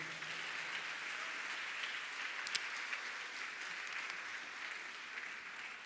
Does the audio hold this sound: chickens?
no